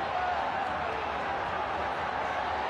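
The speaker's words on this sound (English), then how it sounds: "Listen to this crowd for Aguilan Tani, a sellout crowd inside a Stadium Nagara tonight." A sellout stadium crowd at an MMA fight in Stadium Nagara roars in a steady, dense wall of noise, loud and continuous throughout without any single voice standing out.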